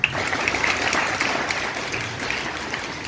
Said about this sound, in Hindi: आप सबकी तालियां